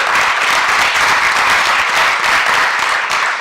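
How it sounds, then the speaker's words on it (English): Audience applause for participants in a college elevator pitch competition, a loud, full, unbroken roar of many hands clapping at an even level throughout. "you should give yourselves a round of applause"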